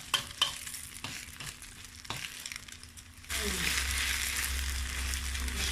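Egg omelette cooking in a pan with very little oil: a few sharp scrapes and taps of a utensil come first, then a steady, loud sizzle takes over and continues.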